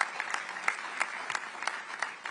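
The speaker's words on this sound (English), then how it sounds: "Let's give them a round of applause." Audience clapping for speakers at a live U.S. nutrition policy announcement, a steady smattering of applause with individual claps standing out, moderately distant and fairly soft.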